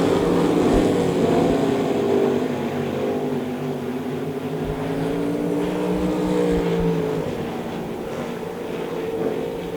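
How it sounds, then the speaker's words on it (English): Sprint cars in a heat race on a dirt speedway, a loud sustained engine roar with rising and falling pitch as the pack circles the track, steady throughout. "2 laps to go here in heat race number 1 for the sprints"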